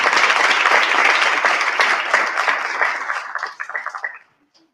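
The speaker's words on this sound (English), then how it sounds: "Welcome here with a big round of applause." Loud applause from a crowd, sustained clapping that thins into scattered claps before stopping.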